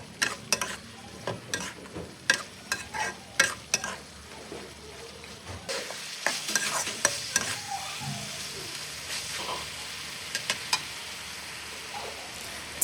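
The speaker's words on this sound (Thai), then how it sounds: "ใส่ปลากระตักที่ทอดไว้เมื่อกี้ลงไปคลุกเคล้าทุกอย่างให้เข้ากันค่ะ" Fried anchovies being stir-fried into sambal in a pan, with sharp, irregular scrapes and clacks of a utensil over a steady, loud sizzle of hot oil that thickens partway through, no voices.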